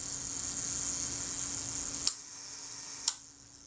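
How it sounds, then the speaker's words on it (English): A vintage camera's mechanical self-timer whirs and buzzes steadily as it runs down, then the shutter releases with a sharp click, followed a second later by a second distinct click, close and quiet. "if I hold back this tab on the self-timer, the self-timer should run down"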